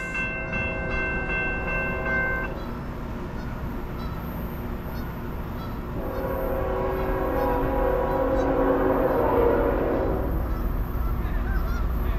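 A CSX freight train led by two locomotives rolls past at South Plainfield, New Jersey, opening with a loud sustained horn blast, then a continuous heavy rumble and squealing of wheels on rails, close and loud.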